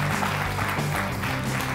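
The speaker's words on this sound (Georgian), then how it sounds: "და აპლოდისმენტები" Audience applause at a televised show, a dense roar of clapping that rises and holds steady, loud and close throughout.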